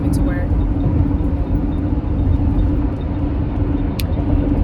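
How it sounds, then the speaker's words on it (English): A car rolls along on the way to work, heard from inside the cabin as a steady low road rumble and engine drone, with one faint click. "I am driving to work"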